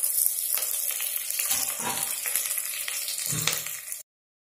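Green chilies and curry leaves fry in hot oil for a homemade fish curry, giving a loud, steady, close sizzle with a few bursts of crackling before it cuts off.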